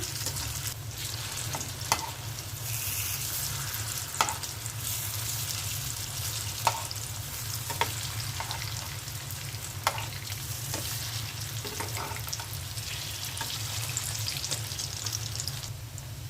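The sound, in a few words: cauliflower fritters frying in oil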